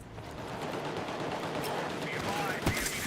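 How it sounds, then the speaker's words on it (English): A light machine gun rattles away in a sustained stream in Escape from Tarkov, heard faint and distant beneath a voice talking. "Well, that's an LMG if I ever heard one."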